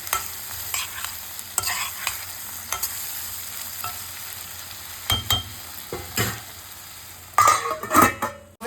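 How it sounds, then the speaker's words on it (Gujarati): Tomatoes are stirred into a pan of sizzling paneer curry, with steady frying hiss, a spoon scraping and clinking against the metal pan in irregular strokes, and a few louder knocks near the end. "હવે હું લાસ્ટમાં નાખીશ ટમેટા ટમેટાને પણ આપણે ચડવા દઈશું"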